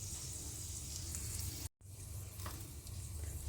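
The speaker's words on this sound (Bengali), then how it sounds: "এখানে সামান্য পরিমাণ তেল দেব। ফোড়নে দিয়ে দেবো একটা শুকনো লঙ্কা" A dried red chili sizzles and crackles in a little hot oil as a tempering for tomato chutney, a steady close frying hiss that cuts out briefly and then resumes.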